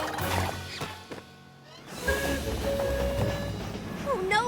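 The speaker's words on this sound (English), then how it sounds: "But you should be more worried about missing the train to Canterlot." A cartoon train pulls away on its way to Canterlot in a My Little Pony episode, with a few sharp clanks, then a rising mechanical rumble and shrill whistle-like tones at the end.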